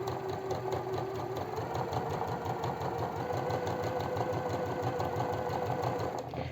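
Sewing machine running a straight stitch around the hem of a dress sleeve, a rapid even mechanical chatter of the needle held at steady speed, close and moderately quiet, without talking.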